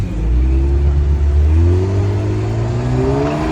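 A Cadillac CT4-V Blackwing engine revs up, a loud, close mechanical drone that climbs steadily in pitch over a few seconds with no voices.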